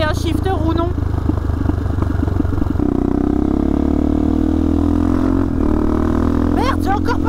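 Motorcycle ridden through traffic, its gear shifted on the fly without the clutch. A loud, buzzing engine drone runs steadily, then the pitch drops clearly as the gear changes and the engine settles into a lower, continuous hum under wind noise.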